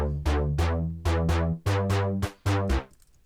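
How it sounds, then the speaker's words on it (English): Layered EDM house bass, a deep sub bass combined with a brighter high bass, playing a punchy rhythmic pattern of about seven loud, sustained notes with sharp attacks, alone without any talk. "this is the sub bass with the high bass"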